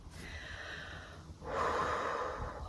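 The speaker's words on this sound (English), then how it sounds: "oh, excuse that yawn" A woman's yawn, a long breathy exhale that then swells into a louder, rougher open-mouthed stretch of breath near the end, close and alone with no words.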